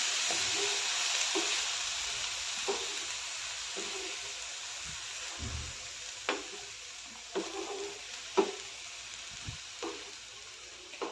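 Fenugreek leaves sautéing in a pan until soft for dhaba-style lasuni methi give a steady sizzle and hiss, broken by occasional scrapes and taps of a stirring spoon.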